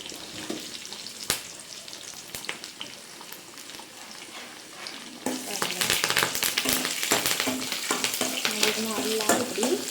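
Garlic cloves, curry leaves and dried red chilies fry in hot oil for a Tamil drumstick curry tempering. A quieter sizzle with occasional stirring clicks gives way midway to a loud, dense crackling and spattering close by.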